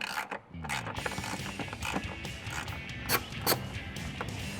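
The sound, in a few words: ratchet removing 10mm bolt on F-150 valve cover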